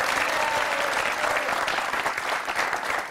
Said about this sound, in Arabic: صفقوا عليه عفاك